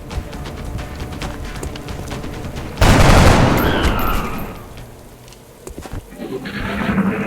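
A soldier's shot in XCOM: Enemy Unknown erupts as a loud burst of gunfire over steady game ambience, its noisy blast trailing off over several seconds.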